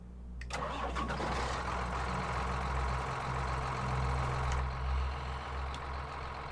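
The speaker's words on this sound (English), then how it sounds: "So there's our new tractor." A 6910S tractor engine in the Farming Simulator 19 video game starts and settles into a steady, loud, low rumbling idle that drones on without a break.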